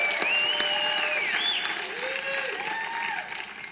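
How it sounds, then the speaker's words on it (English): Audience applauding at a startup demo day pitch event, a sustained burst of clapping and crowd noise with some whooping tones over it, fairly loud and steady before tapering slightly. "So first, an applause to Boomtown."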